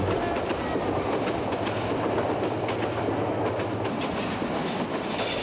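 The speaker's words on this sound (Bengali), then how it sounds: "একটা স্টেশনের ট্রেনটা থামতে হইব তো" A moving train rumbles steadily throughout, with rhythmic clickety-clack of wheels over the rails and a low droning hum underneath. The sound stays close and constant, with no voices.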